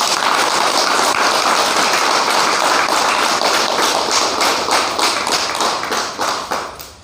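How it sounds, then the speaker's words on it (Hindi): An audience at an indoor gathering claps loudly and continuously, a dense burst of applause that thins out and fades over the final seconds. "तो एक जोरदार ताली खुश होके बजाइए"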